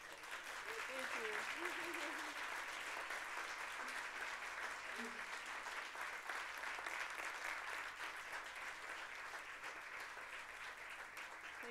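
Steady applause from a crowd fills the whole stretch, dense and even, with a few faint voices and whistles poking through near the start.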